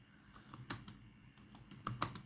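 Quiet, irregular clicks of a computer keyboard as code is typed, a scattering of soft keystrokes with short pauses, faint and close without talking.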